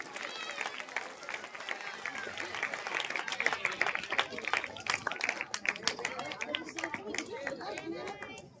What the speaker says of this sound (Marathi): जोरदार टाळ्या झाल्या पाहिजेत काळे सरांसाठी